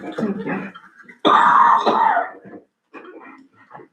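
A person coughs during a town board work meeting in a town hall: a few rough, throaty bursts near the mic, with the loudest and longest fit in the middle and fainter hacks before and after.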